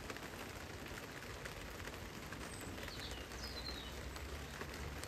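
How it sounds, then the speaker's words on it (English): Rain falls steadily on an outdoor catio, a faint, even hiss of drops with no talking throughout. "we'll just have a moment to listen to the rain"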